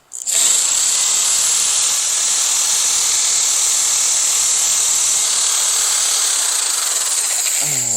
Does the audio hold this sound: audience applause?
no